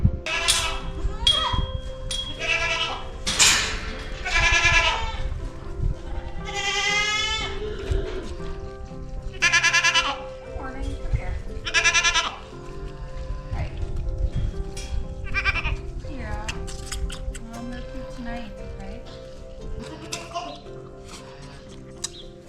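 A herd of meat goats on a summer farm bleat loudly and often, overlapping wavering cries near and farther off, over a constant low rumble of farm background without talk.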